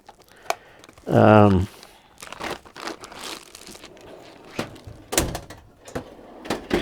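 Wire rolls and loose wire rummaged in a workshop drawer, giving a loud crinkling, sliding rustle early on, then scattered clunks, scrapes and knocks as things are shifted around.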